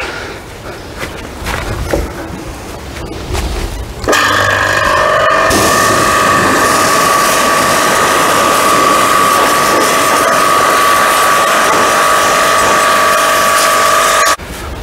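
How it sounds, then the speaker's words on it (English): Pressure washer spraying down a Case 580SK backhoe transmission, a loud steady hissing jet with a high motor whine that starts abruptly partway in and holds until near the end. "Next step is to hit it with a gurney, or pressure washer, aqua blaster, whatever you want to call it."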